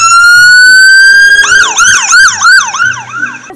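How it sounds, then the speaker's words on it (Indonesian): A toy ambulance siren, first a rising electronic tone, then a fast wailing warble that repeats several times, loud and close. "Kalau yang ini ada mobil ambulans."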